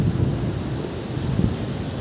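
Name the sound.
overflowing waterfall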